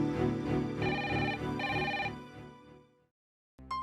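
A telephone rings repeatedly in steady electronic bursts, fairly loud and close, then stops, followed by a brief silence and a faint new sound.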